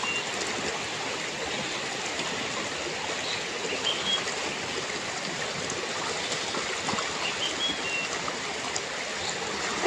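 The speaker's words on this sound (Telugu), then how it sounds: "ఇక్కడ చిన్న రివర్ ఉంది కానీ చాలా అంటే చాలా బాగుంది అది" A small river near Araku and Anantagiri flows steadily, a continuous close rush and trickle of water with no pauses and no voices.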